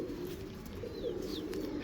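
A female pigeon coos softly and low, a muffled, rolling call close by in a quiet space with faint background hiss.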